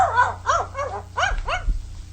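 A dog gives a run of four or five quick, close barks that rise and fall in pitch, with a whiny, yipping edge, over a low background hum.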